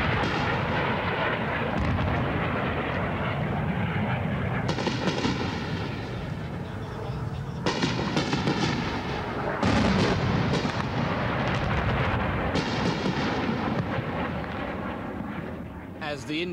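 Indian fighter jets from the 1971 Bangladesh war make low, loud passes overhead, a sustained roar that swells in several surging waves across the whole stretch.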